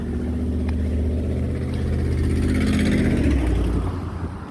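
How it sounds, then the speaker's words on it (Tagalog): A car with its muffler removed drives close by, its loud, raw exhaust rumbling deep and steady, swelling slightly toward the end before easing off. "iba na yung tunog ng sasakyan nakala ko"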